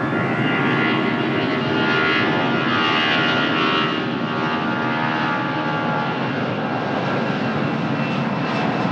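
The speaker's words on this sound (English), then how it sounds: "Portuguese Air Force Merlin helicopter." A loud, steady roar of a Portuguese Air Force Merlin military helicopter passing overhead near Lisbon Airport, continuous throughout with no talking.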